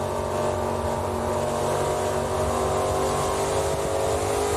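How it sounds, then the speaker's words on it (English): Onboard sound of an ARCA Menards Series stock car engine at Iowa Speedway, a loud steady drone that holds and builds gently as the throttle comes up off a corner, with no talk. "Mason Diaz, so gentle with that throttle coming up off the corner."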